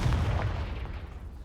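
A Confringo blasting spell cast in the Hogwarts Legacy video game, heard as a heavy, booming burst that fills the clip and slowly fades away.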